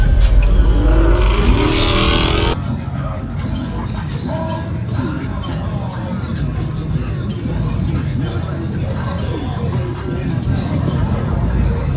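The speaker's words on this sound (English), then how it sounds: "that boy that had did the burnout" A car roars through a burnout at the Pressure Fest car show, loud revving engine and tire noise dominating, with crowd chatter and voices mixed underneath.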